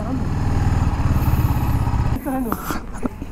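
A TVS Apache RR310 motorcycle engine idles and putters nearby at a service centre, steady and throaty, then cuts off as a voice speaks over it.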